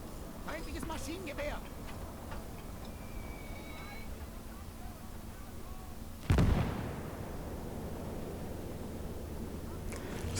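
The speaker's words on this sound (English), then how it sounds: "So that's the big mortar rounds landing" A big mortar round lands in the WWII strategy game Gates of Hell with one loud, sudden blast midway, its rumble trailing off over low battlefield noise, while a voice talks around it.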